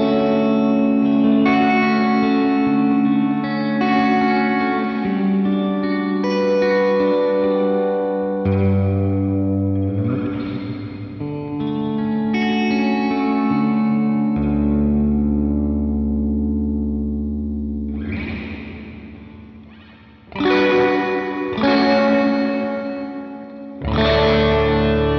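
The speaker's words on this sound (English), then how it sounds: "Trying to bring as much reverb out of it as I can." Electric guitar played through a Boss Tera Echo TE-2 pedal set near self-oscillation, loud sustained chords swelling into long reverberant, shimmering tails that fade and return, with no talking.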